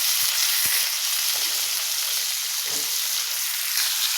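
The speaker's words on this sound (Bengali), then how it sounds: "জাস্ট তেলের উপরে এগুলো ভাজবো লো হিটে" Steady sizzling of bitter gourd, onion, chilli and prawns frying in hot oil over low heat, close and continuous, with a few soft clicks of stirring.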